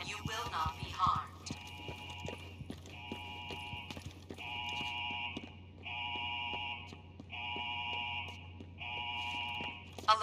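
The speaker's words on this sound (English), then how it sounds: "This is a level 4 alarm." In the video game Days Gone, an electronic alarm sounds in regular repeating bursts of two-tone beeping, evenly spaced and moderately loud, with a brief clatter of other game noise at the start.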